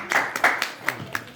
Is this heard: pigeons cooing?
no